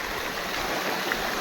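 A hidden hillside waterfall near Govindpur in Nawada pours down from a height, making a steady, close wash of rushing water that continues unbroken with no voices.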